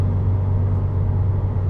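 A 2018 Subaru WRX fitted with Neomax 10k Swift springs cruises on a decent freeway, giving a steady low road rumble and engine drone from inside the cabin, continuous and even with no talking.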